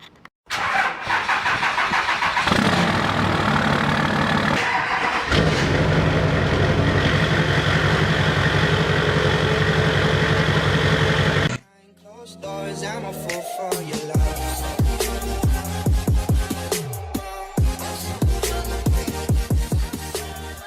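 A custom show truck's engine in Farming Simulator 19 runs loud and steady, then drops into a rougher, pulsing idle with uneven throttle blips. No voices are heard.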